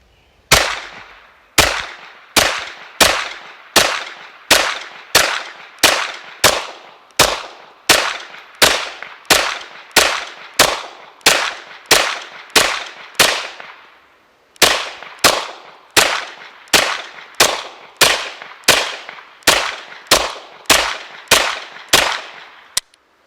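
A Kel-Tec Gen 3 S2K carbine fires from a Glock 33-round magazine at a range, with about thirty loud, sharp shots in a steady, evenly spaced string, a short pause past the midpoint, then the remaining shots.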